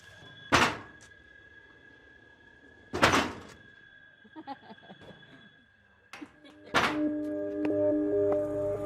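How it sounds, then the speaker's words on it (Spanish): A door in Guatemala is kicked three times, each a loud, sharp thump with ringing resonance spaced a few seconds apart, with quieter knocks and a voice in between. "La idea es que usted patea la puerta y yo grabo el sonido."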